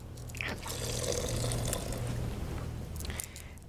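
A quarter cup of water is poured into a blender while making Thai butternut and cilantro soup, a steady, soft splashing trickle lasting a few seconds.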